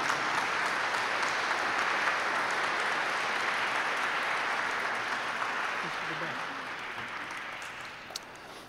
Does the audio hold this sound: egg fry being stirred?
no